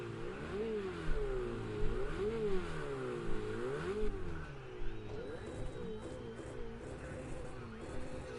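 Ferrari 488 GT3 race car engine in Project Cars 2 at Watkins Glen, revving hard through repeated rising and falling gear changes, loud and close throughout the pre-race getaway.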